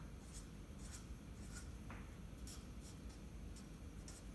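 Chalk or marker scratching out the numeral 5 on a board in a series of short strokes, faint against a steady background hiss, with no talking.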